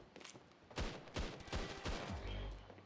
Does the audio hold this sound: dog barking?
no